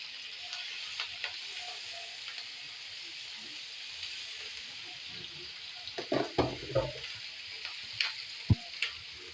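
Marinated beef kebabs on skewers frying on Kenyan street food grill, a steady broadband sizzle running throughout, with louder crackles and pops bursting in toward the end, as the skewers are turned.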